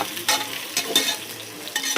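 Fish tawa fry cooks on a hot griddle, a crackling sizzle broken by several short scraping stirs, close and fairly loud, with no one talking.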